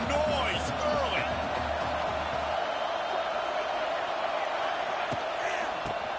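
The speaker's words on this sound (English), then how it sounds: "This crowd bringing the energy and noise early." A stadium crowd at a college football game sends up a broad, continuous roar of cheering, with a few sharp impacts and whoops standing out over the steady wash of noise.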